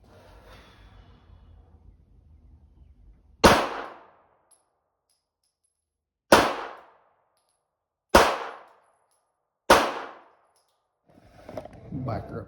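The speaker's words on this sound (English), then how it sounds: "Shooting off a bag always just don't feel right shooting a pistol." A pistol fitted with an RMR red-dot sight is fired from a bag rest, giving four loud, sharp shots spaced a few seconds apart, each with a short ringing decay, with faint murmuring before and after.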